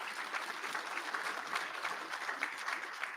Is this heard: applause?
yes